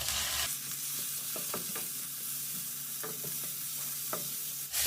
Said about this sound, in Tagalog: Habang ginigis na natin yan